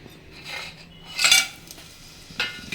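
Whole spices for mutton keema biryani, including marathi moggu, are dropped into a metal cooking pot, giving a few short, close clinks and rattles against the pot with quiet pauses between them.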